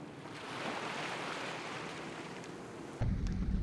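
Sailboat under sail with the breeze on the beam: steady rushing water and wind noise wash continuously, with a heavier low gust of wind buffeting the microphone near the end.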